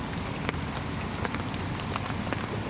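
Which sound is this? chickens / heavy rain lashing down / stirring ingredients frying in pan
heavy rain lashing down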